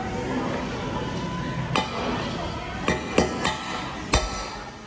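At a Dubai seafood restaurant, a hammer cracks shellfish shells in about five sharp, separate knocks spaced irregularly over the clip, heard close above a busy dining-room background.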